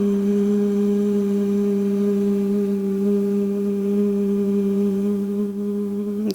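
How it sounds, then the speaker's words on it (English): A person hums a single steady, sustained tone during a guided relaxation exercise, holding one unbroken note close and clear for several seconds with no talking. "We're going to start humming like this."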